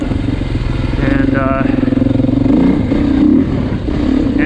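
A 2024 Beta 480 RR dirt bike engine runs steadily while being ridden at low speed, a close, continuous drone with slight throttle swells under a man's speech.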